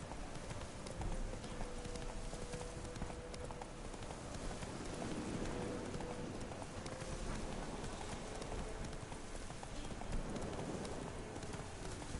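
Roach the horse gallops in The Witcher 3, a steady clip-clop of hooves running continuously throughout under a dense ambient game background, with a soft patter like rain mixed in.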